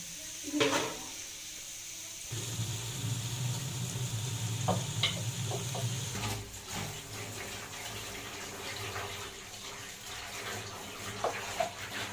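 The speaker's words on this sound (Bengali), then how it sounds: "একটু নাড়া দিতেছি" Onions frying in a pan give a quiet, continuous sizzle with occasional light clinks and scrapes of stirring, faint and somewhat watery, with no speech over it.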